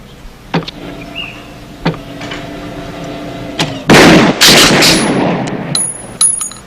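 Sharp gunshots at shooting practice: a few single cracks spaced seconds apart, then a loud, dense burst of rapid shots that rings out and tails off, with more isolated cracks at the end.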